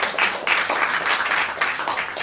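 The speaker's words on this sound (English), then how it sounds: "Another round of applause," Steady audience applause at a talk on Irish poetry, a dense continuous patter of many hands clapping close by throughout.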